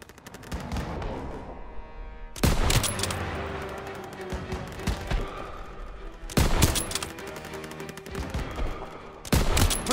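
Call of Duty: WWII battlefield gunfire, with loud bursts of rapid shots erupting three times over a constant rumble of distant combat.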